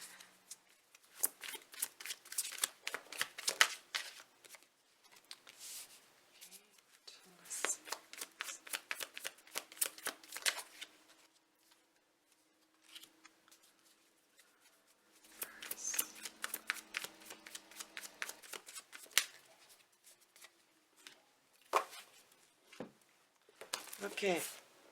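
Tarot cards shuffled in repeated rapid riffling bursts separated by pauses, close and quiet, with a voice talking softly now and then.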